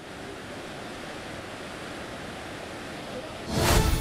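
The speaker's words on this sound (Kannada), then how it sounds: "ಹತ್ತೊಂಬತ್ತು ಕ್ರಸ್ಟ್ ಗೇಟ್ಗಳ ಮೂಲಕ ಈಗಾಗಲೇ ನೀರನ್ನು ಹೊರಬಿಡಲಾಗ್ತಾ ಇದೆ" Water roars through 19 of a dam's 26 crest gates during heavy rain in Shivamogga's Malenadu region, a steady dense rush that swells louder in the final half-second.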